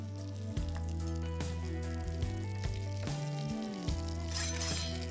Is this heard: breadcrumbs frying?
yes